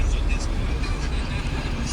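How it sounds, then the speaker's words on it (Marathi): Road traffic in the rain passes as a steady, dense wash of vehicle rumble and tyre hiss, constant and fairly loud throughout. "ट्रॅफिक लागले बघू शकतो आपण."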